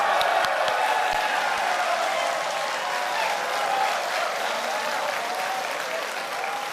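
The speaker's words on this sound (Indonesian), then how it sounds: "Tepuk tangan." An audience at a 2014 Indonesian presidential and vice-presidential candidate debate breaks into sustained applause, a dense, even wash of clapping from a large crowd lasting the whole stretch, with faint cheers mixed in.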